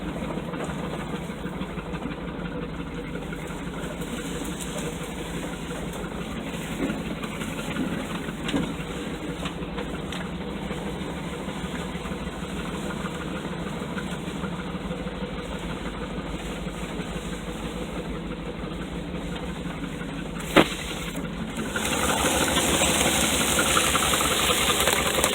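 A Chevrolet K5 Blazer engine runs steadily on a trail drive, a loud, continuous rumble with rattling and knocking undertones and no break in the drone, briefly punctuated by a sharp knock near the end.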